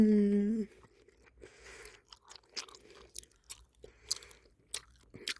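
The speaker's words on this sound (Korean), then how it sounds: "자 이제 가도스를 먹어볼 겁니다." Someone chews a Gyarados Pokémon gummy jelly close to the microphone. A short hum comes first, then soft, squishy, irregular bites and chewing smacks.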